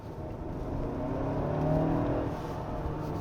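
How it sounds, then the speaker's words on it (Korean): A Hyundai Santa Fe (MX5) gasoline SUV engine revs and builds under hard acceleration in sport mode, a steady loud drone with rising pitch that peaks and then eases slightly, with a slightly diesel-like clatter. "급격하게 가속을 하잖아요. 가속을 해볼게요. 스포츠 모드."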